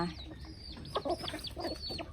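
Village chickens raised in Khukhan, Thailand cluck in a few short, close calls over a busy outdoor background.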